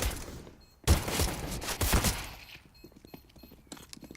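Counter-Strike gunfire in a professional esports match: a burst of loud close shots followed by a run of quicker, fainter pops and clicks fading out.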